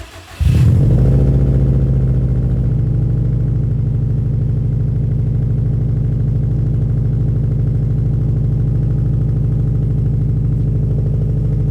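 A lifted Subaru STI engine with a new exhaust starts with a brief crank and settles into a loud, deep, steady rumbling idle from its exhaust, close up and continuous.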